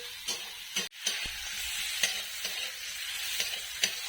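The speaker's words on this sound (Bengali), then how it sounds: "এদিকে টমেটো আর পেঁয়াজটা ভাজা হতে থাক" Onion and tomato fry with a steady sizzle in a pan, a few stirring scrapes and clinks breaking through, close and continuous.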